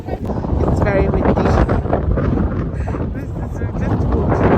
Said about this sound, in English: It's very windy, cold wind, southeasterly with no goodness is all I can say.